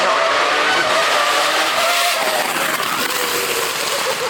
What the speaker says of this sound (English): this car for me, you know, it's got to be this V10